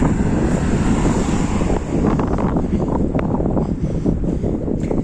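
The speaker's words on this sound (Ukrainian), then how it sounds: "О, який вітер." Strong wind buffets the microphone in a loud, continuous low rumble that gusts and roars throughout.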